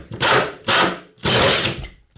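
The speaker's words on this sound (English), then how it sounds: "this has got some great torque on it, so hopefully we'll go straight through" A Bosch drill driving a hole saw through wood, heard as three loud, sustained cutting bursts separated by short pauses, close up with no talking.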